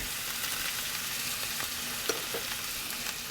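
Butter, rosemary sprigs and garlic sizzle in a Ninja Foodi pan alongside a pan-seared ribeye steak, a steady close hiss of frying with a few small pops and spatters.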